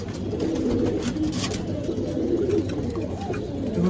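Pigeons coo in a loft of Giribaz and other fancy pigeon breeds, a steady low murmur of overlapping calls filling the space at close range, continuous throughout.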